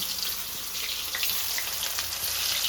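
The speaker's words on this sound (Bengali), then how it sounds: "এখন আমি ওই তেলের মধ্যে ইঁচড়টা দিয়ে দিচ্ছি।" Boiled young jackfruit fries in hot oil with a continuous close sizzle and crackle that holds steady throughout.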